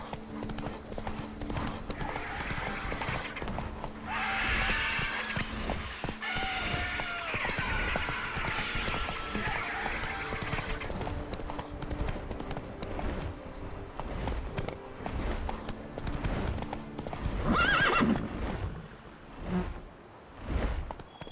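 Roach, a horse in The Witcher 3, clip-clops steadily along with hoofbeats running the whole time, while crickets chirp in the background and a brief neigh rises near the end.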